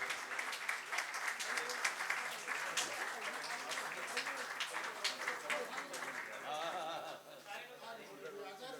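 Enthusiastic audience applause at an award honour ceremony, dense continuous clapping with scattered sharp claps, moderately loud and easing off toward the end, with a voice speaking over it.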